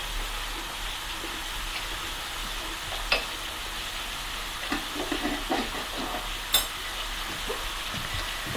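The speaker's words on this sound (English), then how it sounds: "And then I'm just going to watch those and let them fry up." Food fries in oil in a pan on a wood cookstove, a steady, soft hissing sizzle throughout, with a few faint clicks and taps of utensils, and no talking.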